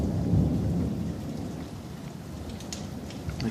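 Low distant thunder rumbling after a storm has passed, with strong wind moving a large tree, heard as a faint continuous rumble that fades slightly over a few seconds.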